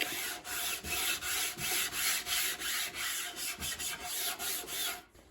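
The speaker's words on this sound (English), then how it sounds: "this is a 320 sanding sponge, and I'm going to very lightly sand the fabric." Light, steady rubbing strokes of a 320-grit sanding sponge on fabric, about a dozen even back-and-forth passes at close range, with no talking.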